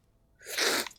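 A single sharp sneeze from someone near the mic, a short in-breath then a loud burst, heard alone over quiet game background from the Xbox One zombie game ZOMBI.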